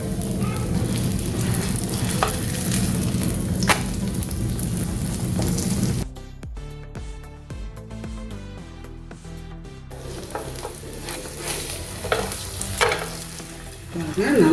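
An oil-free sandwich fries slowly in a dry pan, giving a steady sizzle and crackle that drops out briefly to a quieter, tonal stretch in the middle before the frying resumes, close and continuous.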